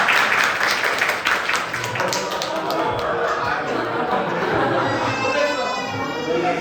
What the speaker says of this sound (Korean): 한번 박수로 환영해 주시면